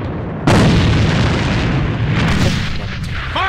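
A grenade explosion in the shooter game AVA bursts loud and close, a sudden deep boom that rumbles and decays over a few seconds, with fainter pops and a brief voice near the end.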